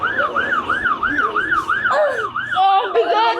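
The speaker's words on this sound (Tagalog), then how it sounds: "Naririnig mo yung wiw, wiw, wiw, wiw! Ang daming pulis!" A police car siren wails loud and close in a steady rising-and-falling cycle, then overlaps with a second siren of a different pattern near the end, against a background of street noise.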